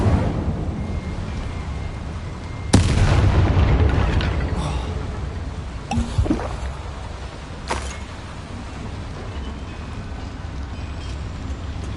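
An Incendio fire spell cast in the Hogwarts Legacy video game, inside a small mine: a sudden loud whooshing burst of flame rises over a steady low rumble, then fades into further brief crackling flares.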